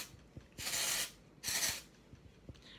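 An aerosol hairspray can sprays into hair in two steady hissing bursts of about half a second each, close and fairly quiet, with soft taps and handling noise between them.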